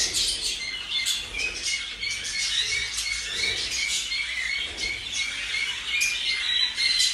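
Baby birds squawk continuously in a nest box, a dense, shrill chorus of begging calls up close, with faint rustling and no voices.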